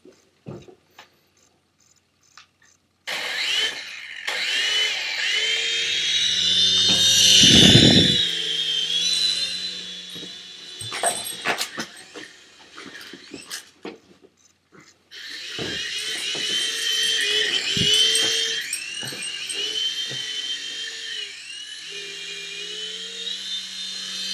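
A small remote-control helicopter whines with a high, buzzing motor pitch that rises and falls, cutting out briefly midway before spinning up again, close by.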